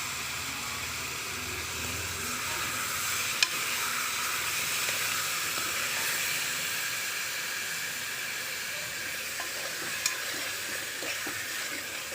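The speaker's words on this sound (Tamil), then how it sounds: "பூண்டு பேஸ்ட் போட்டுடலாம். அதில் சிக்கனை போட்டுடலாம்." Chicken pieces frying in a pan with garlic paste for a chicken gravy: a steady, soft sizzle and hiss that runs unbroken, with an occasional faint clink of stirring, close but quiet and without voices.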